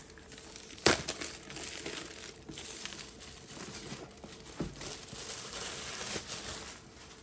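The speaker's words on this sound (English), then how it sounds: "Let's remove the cellophane." Cellophane wrapping being pulled off a Dyson Zone Absolute+ box, a quiet continuous crinkling and crackling with one sharper snap near the start, close by and without talk.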